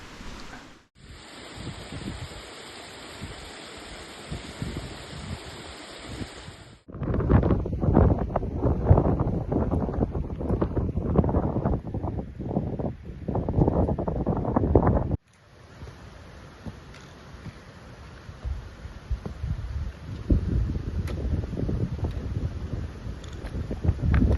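Strong gusting wind buffeting the microphone on the climb up Loughrigg Fell, a loud roaring rumble in heavy bursts separated by abrupt cuts, with no voices.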